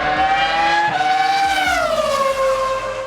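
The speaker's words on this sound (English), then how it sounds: "Alonso's first championship-winning car, but it was also the last of the Renault's mighty 3-liter, 950-horsepower V10 engines" A Renault R25 Formula One car with a 3-liter, 950-horsepower V10 engine screams past at close range, its high-pitched wail holding steady and then sliding downward as it moves away, loud and alone.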